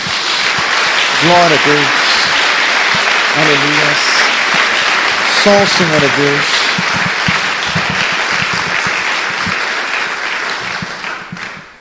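Church congregation bursts into sustained, loud applause during a Portuguese-language sermon, with voices shouting praises over the dense clapping before it slowly fades.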